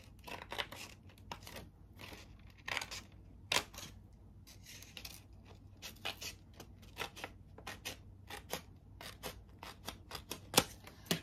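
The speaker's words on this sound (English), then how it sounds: "Get my scissors and just cut in that crease." Scissors snip steadily along a folded paper crease in many short, crisp cuts, close and fairly quiet, with no talking.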